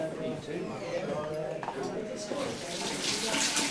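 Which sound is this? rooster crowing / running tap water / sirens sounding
running tap water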